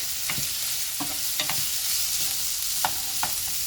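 Raw potato and carrot pieces fry in a pan for cabbage sabji, with a steady broadband sizzle and several short scraping stirs of a spatula at irregular intervals, close and moderately loud, no voices.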